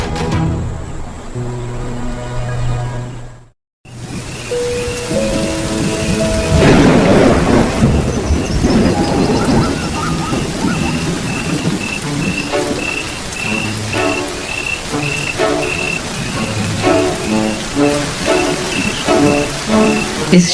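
Heavy rain pours steadily on the Serengeti plains while thunder rumbles loudly and rolls on and on, with faint crickets chirping beneath the downpour.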